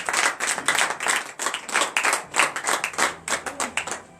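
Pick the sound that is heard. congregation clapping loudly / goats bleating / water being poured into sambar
congregation clapping loudly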